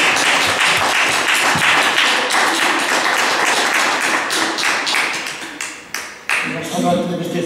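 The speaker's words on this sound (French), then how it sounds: "maintenant, on peut nous applaudir." Steady, full applause from a conference audience after a lecture on saving water, a continuous wash of many hands clapping that gradually loosens into scattered claps toward the end, with no voices over it.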